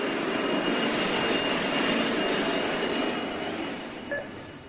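A jet engine roar for a futuristic jeep jet in a radio science-fiction drama, a steady broad whooshing drone that fades slightly toward the end, with no talk.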